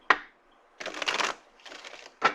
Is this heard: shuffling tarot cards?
yes